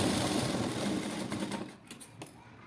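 Sewing machine running steadily while stitching tucks on a blouse, a continuous close whirring hum that slows and breaks into a few short bursts near the end.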